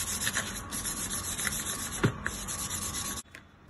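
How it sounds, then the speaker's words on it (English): Karambit being sanded by hand with 1200 grit sandpaper, a quiet, steady rubbing scratch close up that stops abruptly near the end. "let's take a higher grit of sandpaper, like 1200 grit, and give it a final sanding"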